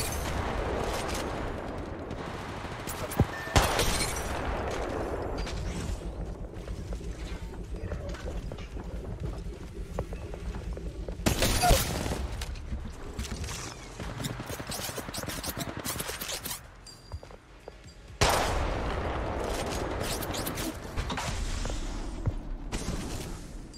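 Gunfire in Apex Legends Mobile, scattered sharp shots and bursts over scraping, mechanical game noise, with a few louder cracks spread across the clip.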